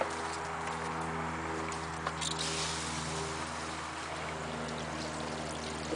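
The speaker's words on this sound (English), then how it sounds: "Get all the water out of the hose." Water gushes and trickles steadily out of an expandable garden hose as it drains after the main supply is shut off, a continuous close pouring sound over a low hum.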